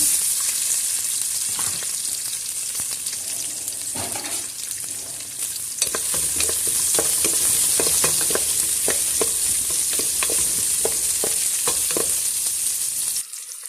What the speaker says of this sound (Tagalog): igisa na natin ang ating sibuyas at bawang